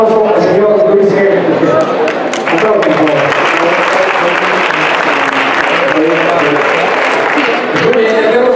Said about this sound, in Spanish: Les damos un aplauso al señor Luis G.